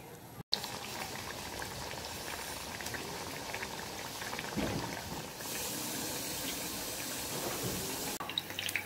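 Mote de ñame, a yam stew, boiling in a pot, a steady close bubbling with rumbling hiss that carries on without a break and changes tone briefly partway through.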